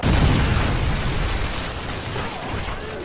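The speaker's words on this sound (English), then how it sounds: "Friendly Predator missile inbound." A Predator missile explodes in a first-person shooter video game: a loud, close boom with a heavy low rumble that slowly decays over a few seconds, with no talk over it.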